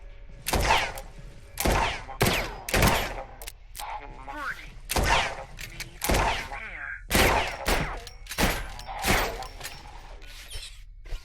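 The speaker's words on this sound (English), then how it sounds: "I used my rifle there because I ran out of pistol ammo." Rifle fire in The Pit: Infinity, a marine's weapon crackling in short bursts of sharp, loud shots spaced by brief pauses, with thuds and mechanical clatter between volleys.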